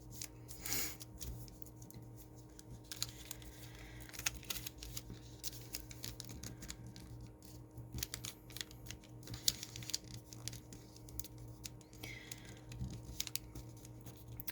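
Paper is folded and creased for an origami flower crane, making soft, close crinkles, taps and rubbing scrapes in an irregular pattern against quiet room hum.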